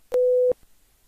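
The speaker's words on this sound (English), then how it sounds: "So this is the sine wave of 500 Hertz frequency." A 500 Hz sine wave test tone plays as a single steady pure beep lasting about half a second, loud and clean, with brief clicks at its start and end and near silence around it.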